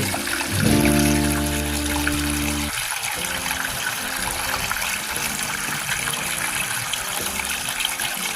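Water rushes steadily through a DIY clean-up sluice used for black sand recovery, a constant loud gushing roar with a brief low tonal hum near the start.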